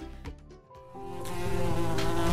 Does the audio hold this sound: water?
no